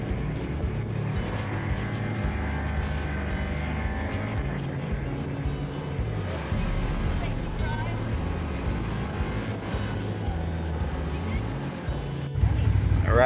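Can-Am ATVs driving along Southwest trails near Bryce Canyon, with a steady, loud low engine drone and rumble throughout, under some speech.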